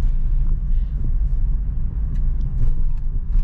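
A Suzuki Ertiga engine rumbles from inside the vehicle in second gear, a low steady drone that swells slightly as it is revved.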